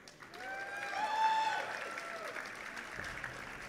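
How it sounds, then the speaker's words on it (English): A crowd at a StarCraft tournament breaks into cheering and applause, a dense wash of clapping that swells to a peak and then gradually tapers off. "Let's hear a cheer"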